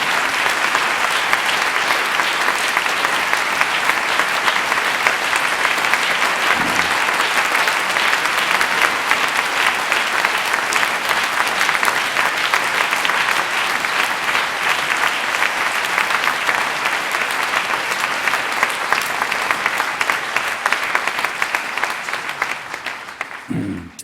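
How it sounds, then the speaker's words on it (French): Sustained applause from a large church congregation at a baptism service, steady and dense throughout, with no voices standing out above the clapping. "Applaudissons d'abord ceux qui vont se faire baptiser aujourd'hui."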